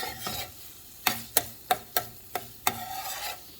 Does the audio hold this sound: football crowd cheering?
no